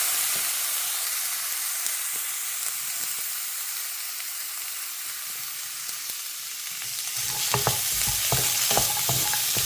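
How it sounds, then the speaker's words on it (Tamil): Grated coconut from half a coconut being sautéed in a pan for a kuzhambu, with a steady soft frying hiss and scraping stirs that grow louder and more clattery toward the end; no talking. "இதில் தேங்காய் அரைமுடி தேங்காய் எடுத்துருக்கேன் இதை அப்படியே நல்லா வதக்கிக்கணும்"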